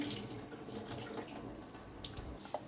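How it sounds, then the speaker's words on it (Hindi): Soaking water being drained from washed ragi grains, a steady running, splashing pour into a sink that continues unbroken and fairly close. "अब इसका जो पानी है ना हमें निकाल देना है।"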